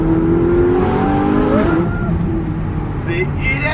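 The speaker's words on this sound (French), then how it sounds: "Le bruit de cette Ferrari, c'est un délire." A Ferrari drifting nearby revs loudly and continuously, its engine note sweeping up and down over a dense roar, with sharp high squeals breaking in near the end.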